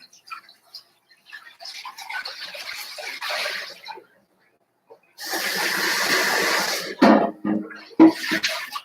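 Vinegar solution poured down a sink drain while soap making, a close splashing, gurgling pour in short bursts that stops, then returns as a louder, steadier stream with a few sharp knocks near the end.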